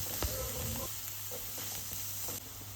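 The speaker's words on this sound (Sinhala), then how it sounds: "කරපිංචා දාලා ඒ ටික බැදෙනකොට ලුණු, ගම් මිරිස් කුඩු ටිකක්, කෑලි මිරිස් කුඩු ටිකක්" Curry leaves, salt, curry powder, chili flakes, chili powder and turmeric fry in a pan with a steady sizzle, a few scraping stirs standing out in the first second before the crackle settles into a constant hiss.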